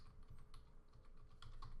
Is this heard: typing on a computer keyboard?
yes